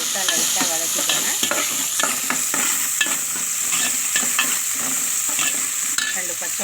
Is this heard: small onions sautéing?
yes